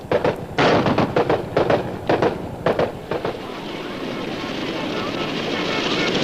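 A US military helicopter's rotor thumps rapidly and loudly at first, then blends into a steady roaring engine drone that slowly grows, during the Saigon evacuation.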